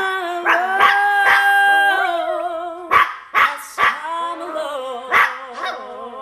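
A talented pet dog howls along with a woman's singing, long wavering tonal howls joined by sharp yips and barks in a loud, close, intermittent duet.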